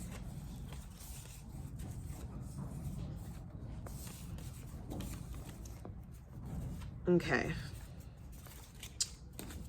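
Tarot cards being shuffled by hand, a soft papery riffle and brushing close to the mic, running under steady talk with a brief louder flutter near the end.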